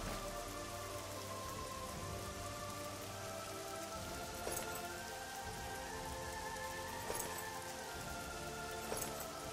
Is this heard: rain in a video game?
yes